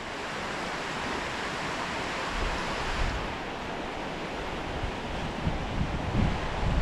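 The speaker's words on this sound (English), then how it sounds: "So I'd point my camera to the flowing water there." Flowing river water rushes in a steady, even hiss, a constant moderate-level wash with light wind noise and no voices.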